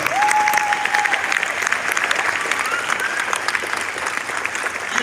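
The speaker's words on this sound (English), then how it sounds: "give them a round of applause" A crowd applauds staff at an LA Clippers facility opening in Los Angeles, with a close, dense wash of clapping, a faint whistle near the start and some background voices mixed in, easing slightly toward the end.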